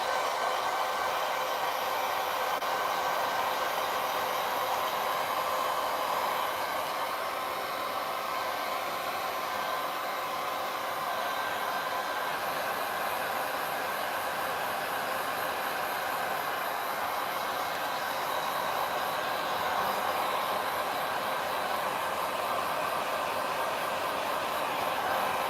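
A hair dryer blows steadily on a wet watercolour painting, a loud, unbroken whoosh of fan and airflow that holds an even level the whole time.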